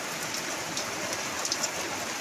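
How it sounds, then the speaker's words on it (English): Heavy rain pours down on a garden and patio, probably heard from under a gazebo: a dense, steady hiss of falling water with scattered close drop impacts, with no talk. "really pouring down"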